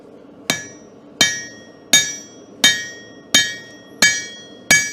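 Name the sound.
blacksmith hammer striking metal while forging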